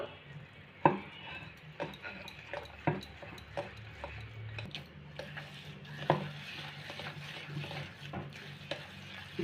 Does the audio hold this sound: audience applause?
no